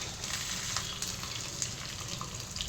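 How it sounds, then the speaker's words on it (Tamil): Dried red chillies, coriander seeds, fenugreek, cumin and curry leaves are fried lightly in oil for sambar, with a continuous, even frying hiss and crackle throughout. "ஜீரகம், கருவேப்பிலை எல்லாத்தையும் போட்டு லைட்டாக வறுக்கணும்"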